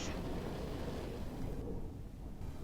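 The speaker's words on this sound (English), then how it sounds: "Wow, it sure is stormy this morning." Steady broadband rain and low storm rumble of a morning thunderstorm heard from indoors under a roof, continuous and fairly loud with no distinct thunderclap standing out.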